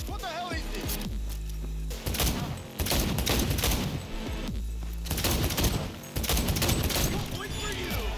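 Heavy gunfire in the video game Cyberpunk, with repeated loud automatic bursts and booms over game music and speech, continuing almost without pause.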